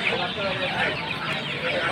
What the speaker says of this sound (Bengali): এই যে বড়গুলো দেখতে পাচ্ছেন, এগুলো যেগুলো মুরগি আছে ডিম পাড়া মুরগি